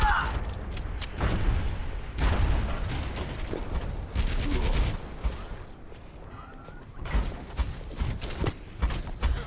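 Payload cart rolling along its track in Team Fortress 2, mechanical clanking and creaking with bursts of gunfire and explosions, a voice speaking over parts of it.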